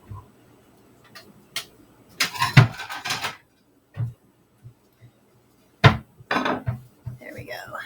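A plate is taken out in a home kitchen, with ceramic dishes clattering and clinking in scattered bursts between quiet gaps.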